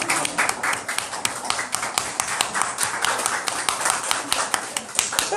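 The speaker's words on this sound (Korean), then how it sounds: "우리 박수로 우리 격려하고 환영합니다." A church congregation claps in welcome for a newly baptized member, a continuous brisk patter of many hands with sharp individual claps standing out, close and fairly loud throughout.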